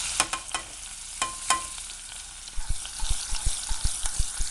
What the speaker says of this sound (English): I've got it on high heat. What's going to happen is I'm going to saute the onions.